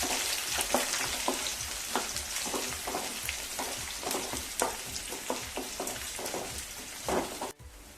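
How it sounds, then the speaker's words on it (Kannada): Chopped onions frying in oil in a pan after roasting chana dal, a steady close crackling sizzle with frequent sharp pops and stirring clicks throughout, no voices. "ಇವಾಗ ಈರುಳ್ಳಿ ಏನಿದೆ ಅದನ್ನು ಹಾಕೊಂಡು ಫ್ರೈ ಮಾಡ್ಕೊತಾ ಇದ್ದೀನಿ"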